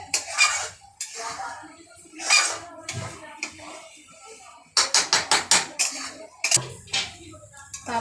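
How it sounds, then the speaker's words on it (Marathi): Eggs are stirred into masala in a pan, with irregular metallic spoon clinks and scrapes against the pan, loud and close, separated by a voice talking in the pauses. "अंडे पण चांगल्या प्रकारे 2 मिनटं मसाल्यामध्ये मिक्स करूया"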